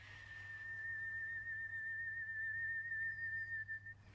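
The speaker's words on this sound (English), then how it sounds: "That's a really pretty whistle." Pretty, pure whistling from the live action Snow White film: one steady, sustained high note held for about four seconds, soft and alone over a faint low hum.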